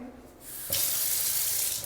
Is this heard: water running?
yes